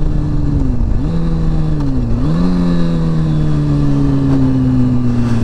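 A motorcycle engine revs while its rider practices wheelies, the loud, close drone dipping twice in quick throttle blips before settling into a long steady pull with no talk.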